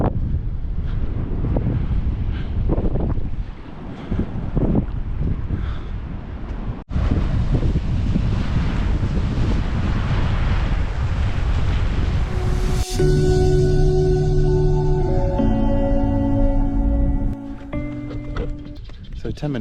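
Blustery wind buffeting the microphone with surf rolling behind it on Piha Beach on New Zealand's west coast, loud and continuous, with people talking over it.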